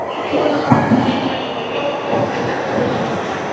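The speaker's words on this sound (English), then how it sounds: "So here we have our Shinkansen, crazy looking train" A Shinkansen bullet train rumbles past with a steady roar of wheels and rushing air, loud and close, with faint clicks and a brief squeal.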